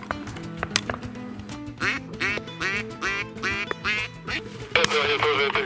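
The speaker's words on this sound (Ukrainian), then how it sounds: "високо полетіла качка" A duck quacks repeatedly and loudly in a rhythmic series of close calls, heard alone in the wetland during a duck hunt opening.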